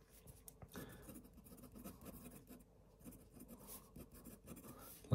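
Nib scratching steadily across paper as a PenBBS Marshmallow Mini Fude fountain pen writes with Lamy black ink, making soft, close, continuous rasping strokes with brief pauses between letters.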